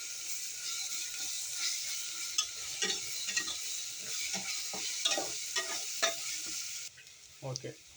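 Ginger garlic paste sautéing in a pan as the first step of a pressure-cooker dum biryani, with a steady sizzle and repeated scrapes and clinks of the stirring spoon.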